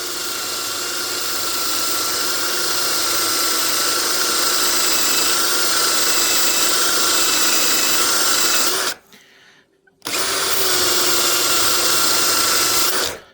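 Loud, steady high-pitched whine of a cordless drill grinding a meteorite, cutting out briefly for about a second before starting again.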